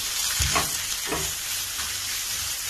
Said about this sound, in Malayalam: അതോടെ ചേർത്ത് നന്നായിട്ട് വഴറ്റിയെടുക്കാം. ലോ ഫ്ലെയിമിൽ വെച്ച് വഴറ്റിയെടുക്കാം.